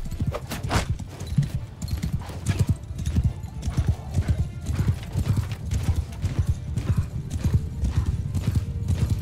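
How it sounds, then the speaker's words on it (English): Horses in Mount & Blade 2: Bannerlord galloping in a dense, rapid clatter of hooves, with a whinny early on, loud and continuous throughout. "horse archers, go!"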